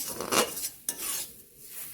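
Spoon or spatula stirring carrot juice into roasted semolina in a pan, with a few scraping, clinking strokes against the metal and a soft wet sizzle, close and fairly quiet.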